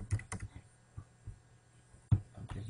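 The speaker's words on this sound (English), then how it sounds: "I'm typing the same thing, cnn.com." Keys on a computer keyboard are tapped in scattered, uneven clicks with a few louder strokes, close and fairly quiet, while a website address is entered for an SEO traffic check.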